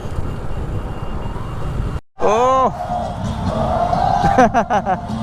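Street crowd celebrating with loud, continuous hubbub and cheering voices, a brief dropout, then rising shouts and a rippling burst of horn-like or whistling tones near the end, with engine rumble underneath.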